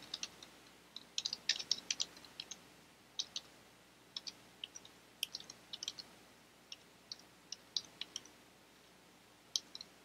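Close keyboard clicks come in quick, uneven bursts as a command is typed on a computer keyboard in a quiet room, with short pauses between groups of keystrokes.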